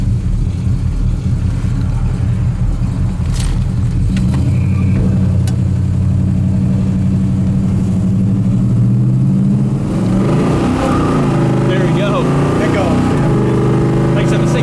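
A 1965 Pontiac LeMans with a 389 V8 cruises down a highway, its engine a steady, loud low drone with road and wind noise, the tone rising slightly as it pulls harder toward the end.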